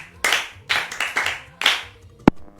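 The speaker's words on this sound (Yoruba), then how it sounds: "ẹ pàtẹ́wọ́ fún." Children at a Yoruba children's programme give a round of group clapping, four or five loud claps in a steady beat, followed by one short sharp knock at the end.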